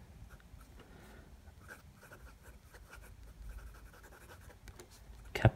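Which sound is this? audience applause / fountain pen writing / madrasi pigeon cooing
fountain pen writing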